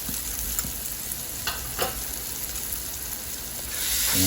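Chili powder and spices fry in a pan while fish curry cooks, a continuous close sizzle with occasional stirring scrapes and a swell in intensity near the end; nobody speaks.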